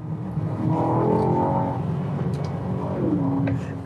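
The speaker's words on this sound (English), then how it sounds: "The one thing I want to do is hear this V8." An Aston Martin DBX V8 engine revs up in sport mode and settles, a deep throaty rise and fall heard at moderate distance.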